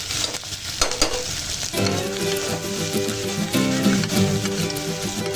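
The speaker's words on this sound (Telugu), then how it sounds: "రెండు పెద్ద సైజు ఉల్లిపాయ ఉల్లిపాయ ముక్కలు కట్ చేసేసుకున్నవి వీటిలో వేసేసుకోవాలి ఇవి కొంచెం ట్రాన్స్పరెంట్ కలర్ అయ్యే వరకు మనం వేయించుకోవాలండి ఆయిల్లో" Large chopped onion pieces sizzling in hot oil in a pan, a loud, continuous close-up crackle with stirring noises on top and no voice.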